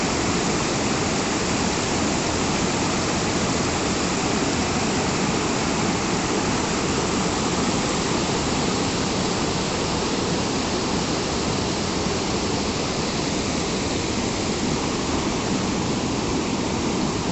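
Kuske Waterfall in Canacona, South Goa, India, roars steadily and loudly, a dense, unbroken rush of falling water that never lets up.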